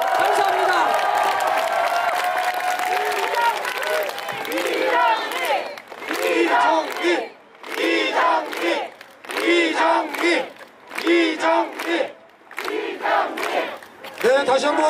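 A crowd at a Justice Party campaign rally in Songdo, Incheon, roars with cheering and applause in rising bursts. It swells and drops in waves, with shouts and chants breaking through, and a voice sometimes heard under the noise.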